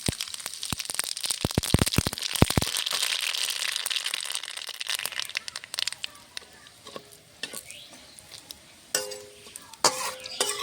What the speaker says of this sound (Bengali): এখন ফোড়নে দেব কটা গোটা সর্ষে আর একটা শুকনো লঙ্কা